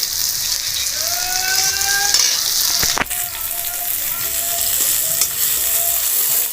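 Onion frying in a pan makes a loud, continuous close sizzle, with a brief clatter midway and faint mechanical whining tones in the background, and no talking.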